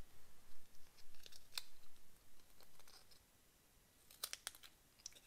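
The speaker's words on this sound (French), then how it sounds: "de suivre avec une paire de ciseaux l'endroit où vous avez mis la colle" Scissors snip through paper in a few quiet, crisp cuts, with a short cluster of sharp snips toward the end against a faint background.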